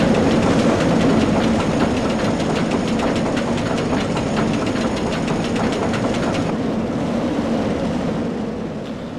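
Roller coaster lift chain from the RollerCoaster Tycoon 3 game, a steady mechanical rattle with rapid regular clicking that runs loud for several seconds, then the clicking stops and a duller rumble carries on and fades slightly.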